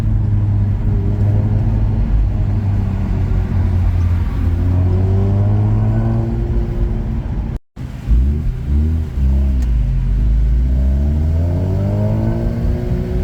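A Mazda RX-8's engine revs up and down through several rising and falling sweeps, loud and close, with a brief cutout partway through.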